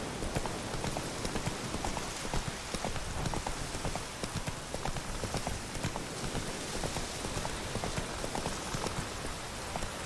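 Roach, Geralt's horse in The Witcher 3, gallops with steady, close hoofbeats over a constant wash of rain, the rhythm continuing without a break.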